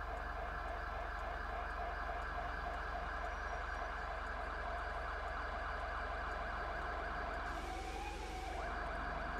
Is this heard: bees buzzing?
no